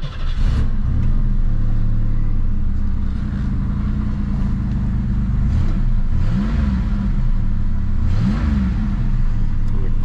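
A 1985 Oldsmobile Cutlass Indy 500 pace car cranks over and starts, then settles into a loud, steady idle with several rising revs of the engine, heard close at a car show, with no talk.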